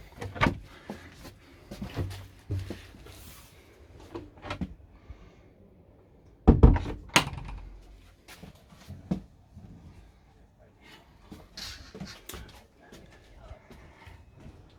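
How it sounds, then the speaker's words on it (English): A washroom door in an Italian Laika Ecovip L3019 motorhome knocks and closes, with a sharp loud bang in the middle among scattered handling thumps and quiet surroundings, and someone speaks briefly. "Surely the door is closing in the wrong place."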